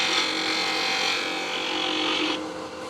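A wood lathe turning a piece of salvaged white oak into a tool handle, a steady loud whirring hum with faint cutting hiss, easing down near the end.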